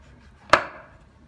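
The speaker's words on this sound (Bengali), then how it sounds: "আমি ছুরি দিয়ে কাটছি" A single sharp knife cut through malta orange peel, one crisp close chop with a short ringing decay, alone and fairly quiet.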